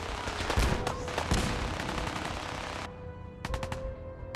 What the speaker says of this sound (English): just another minigun